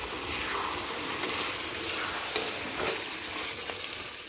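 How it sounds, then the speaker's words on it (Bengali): Broiler chicken leg pieces and potatoes are stirred while they fry in a pan, giving a steady close sizzle with scattered scraping knocks from the stirring and no voices. "এবার ঢাকনাটা খুলে নেড়ে চেড়ে দিচ্ছি।"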